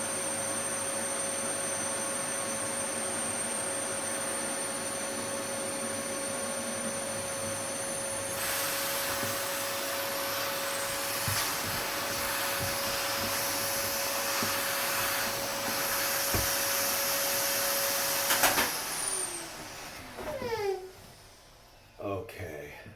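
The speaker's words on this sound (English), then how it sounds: "I think I need to keep the vacuum on a little bit." A vacuum running for vacuum forming plastic, a loud steady whining roar close by that shifts tone partway through, with brief knocks over it, then cuts off and winds down near the end.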